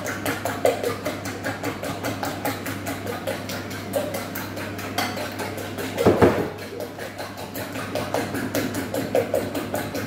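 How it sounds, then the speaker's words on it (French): A fork beats eggs briskly in a bowl, producing a fast, steady train of close clicking taps that runs throughout with a brief louder clatter midway. "on va avec une fourchette, hein. Pas au fouet parce que le fouet va faire tendance à mousser nos œufs"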